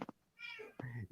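A pet cat meows indoors, several close, loud meows in quick succession, the last one drawn out, with no talk over them.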